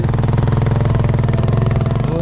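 An off-road motorcycle engine idles close by with a loud, rapid, regular pulsing thump that holds steady throughout.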